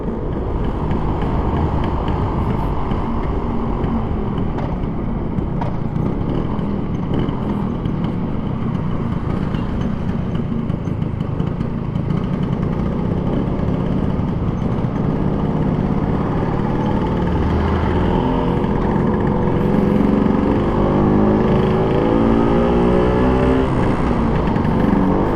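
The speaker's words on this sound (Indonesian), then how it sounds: "Enak ya mesinnya motor ini bro." A 1962 Vespa VBB four-speed scooter engine runs steadily and close while riding, a continuous buzzing drone with wind rush over the microphone and slight rises in pitch near the end.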